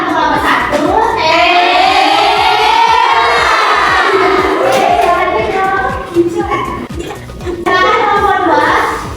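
A classroom of children does the 'tepuk hebat' clapping cheer for a group. It comes as loud, rhythmic clapping mixed with excited shouting and chanting voices that rise and fall, then briefly dip before surging again.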